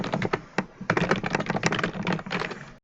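Fast typing on a computer keyboard, ending in a Shift Enter key press: a dense run of close, crisp clicking keystrokes, alone and without talk, stopping abruptly at the end.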